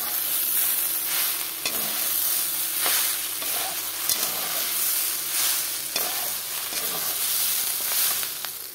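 Spices sizzle in hot oil, among them green chilli, dried chilli, chilli powder and cumin powder, while a spoon stirs them through a constant loud hiss with intermittent scrapes.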